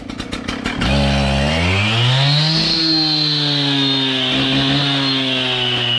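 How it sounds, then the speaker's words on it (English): A Stihl chainsaw is pulled into life: a few quick cord-pull bursts, then the two-stroke engine catches and revs up loud and close, settling into a steady high idle that holds until it cuts off abruptly. "Start my new chainsaw"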